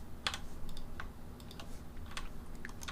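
Keys tap on a computer keyboard with a glided pad, a quick irregular run of light clicks, close and quiet with no talking.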